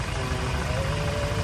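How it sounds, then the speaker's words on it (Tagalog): A 2013 Hyundai Starex engine idles smoothly after a valve lifter replacement, giving a steady low rumble with a faint even tone running throughout, close and continuous with no talk over it. "Napaka-smooth ng makina mga kayabe."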